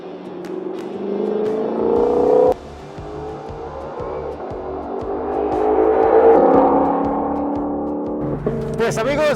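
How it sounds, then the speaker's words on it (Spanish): A Ford Mustang GTD at full throttle on a race circuit, its loud engine note climbing steadily, dropping sharply at one gear change, then building again through the rev range close up. "descubrimos de qué es capaz esta mala bestia cuando pisamos el gas a fondo"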